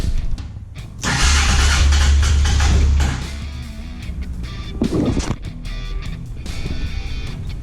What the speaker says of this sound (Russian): Сейчас потестим, запускается ли вообще мотоцикл